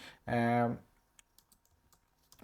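A computer keyboard tapped in sparse, faint keystrokes, following a brief burst of voice at the start.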